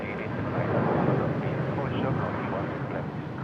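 An Asiana airliner takes off for Okinawa, its jet engines a broad, steady roar at moderate distance, swelling and holding through the few seconds without a break.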